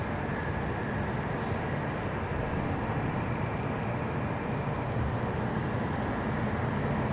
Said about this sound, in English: Next departure, United 1801. They're headed to Denver. It's an Airbus A320.